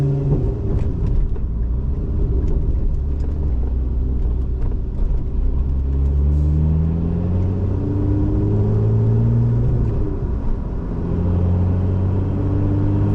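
Lotus Emira engine held near and loud in one gear, with a steady rumbling roar whose rising harmonic sweeps show the revs climbing, dropping back and climbing again across the run, with no talk over it.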